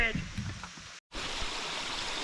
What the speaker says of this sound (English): I think, the first creek crossing of the day.